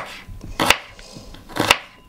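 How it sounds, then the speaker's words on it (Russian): A knife slices an onion into rings on a board: two crisp, separate chops about a second apart, close and clear, with quiet gaps between and no talking. "Вы берете луковичку и просто разрезаете ее пополам."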